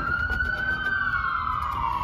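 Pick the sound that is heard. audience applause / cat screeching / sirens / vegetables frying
sirens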